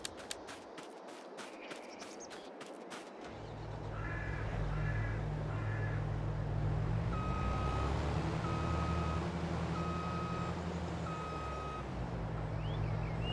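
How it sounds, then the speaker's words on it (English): A truck reversing to park beside crop fields, its engine rumbling steadily while a reversing beeper sounds in regular repeated pulses, with crows cawing nearby at the start. "So I'll just park the truck here"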